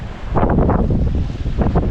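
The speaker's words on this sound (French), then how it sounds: "Et on a du vent" Strong mistral wind gusting over a moored sailboat, a loud continuous roar with buffeting microphone rumble and fluctuating gusts throughout.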